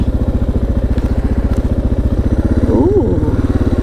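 A Suzuki DR650 motorcycle engine thumps loudly at a steady, rapid beat while riding around Escondido, California, with constant low rumble and a brief voice-like sound near the end.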